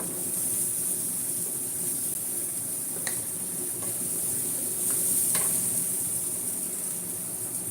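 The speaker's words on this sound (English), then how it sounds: "We're just making a saute of onions, red pepper, green pepper, meaning the bell peppers" Onions with red and green bell peppers and cabbage sauté in a pan with a steady, close sizzle, marked by a few sharp clicks of a utensil against the pan.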